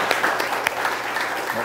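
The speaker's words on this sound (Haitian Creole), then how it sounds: "nous demandé tout le monde pour un gros applaudissement" Audience applause at a forum on educational games and chess for preventing juvenile delinquency, a steady dense clapping texture throughout, moderately loud with some voices mixed in.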